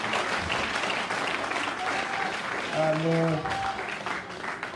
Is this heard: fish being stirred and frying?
no